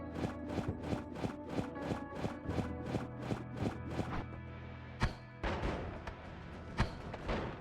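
Wand spells firing in the video game Noita, a fast, steady run of about a dozen evenly spaced snappy bursts, followed by a few scattered, louder impacts.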